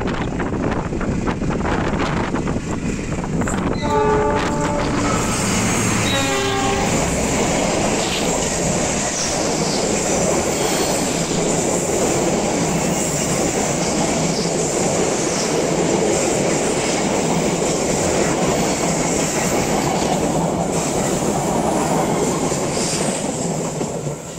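A train roars past continuously as it exits the Sasaksaat tunnel in West Bandung, with air pushed out of the tunnel heavily buffeting the microphone and a brief horn-like tone near the start.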